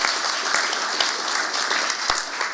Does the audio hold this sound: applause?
yes